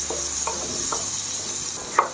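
Garlic and chili frying in a pan for fried rice: a constant hissing sizzle with several soft spatula taps spaced through it and one sharper clink at the end; no voices.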